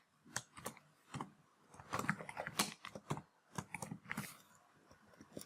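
A computer keyboard is typed on in a quiet room with a series of light, irregular clicks and taps in short bursts, close and faint, with no talk.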